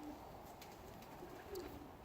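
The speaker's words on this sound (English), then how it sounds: "This is one of my favorite pigeon." A pigeon coos softly, faint and close, against quiet low background noise.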